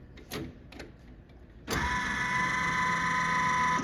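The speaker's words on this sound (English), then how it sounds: "there is a rapid travel motor for 4 different directions" After a few light mechanical clicks, the rapid travel motor of a D-20x60 engine lathe starts up and drives the carriage with a sudden, steady whirring hum that stays even until the end.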